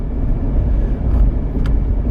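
Steady low road rumble and engine hum inside a car cruising on a road trip, continuous and close, with a couple of faint ticks.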